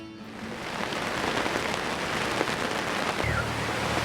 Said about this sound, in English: It's raining and blowing.